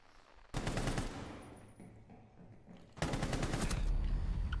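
Rainbow Six Siege gunfire in two dense automatic bursts, loud and close, separated by a quieter stretch of game ambience.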